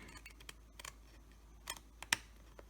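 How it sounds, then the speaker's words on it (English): Scissors cutting a paper frame: a few quiet, crisp snips and clicks spaced irregularly over a faint room hum, with no talk. "I'm going to use scissors, and we are going to cut up here"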